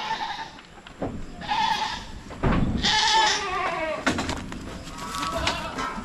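Goats on a farm bleating several times, loud and close, with overlapping calls and rustling between them.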